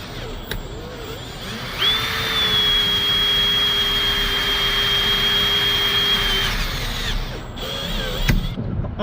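A power drill whirs at a steady high pitch for several seconds while drilling into a broken bolt on a Brunswick A/A2 pinsetter gearbox, starting and stopping abruptly, with clicks and handling noise around it.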